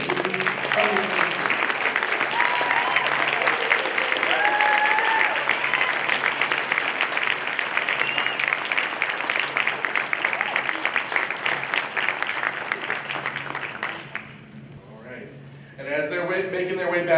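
A large crowd applauds graduates at a Spring 2022 university honors college graduation reception, with long, loud, steady clapping, some voices and cheers mixed in, then a brief dip before speech begins near the end.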